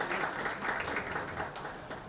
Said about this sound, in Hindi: तो स्वप्निल के लिए एक बार जोरदार तालियां।